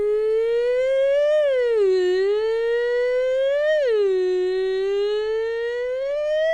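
A voice imitates a siren, one steady wailing tone that swoops up and down in slow waves, loud and close with no other sound.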